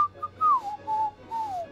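A person whistles an imitation of Robin Hood's whistle: a short two-note call followed by three sliding, falling phrases, clear and close with no talking.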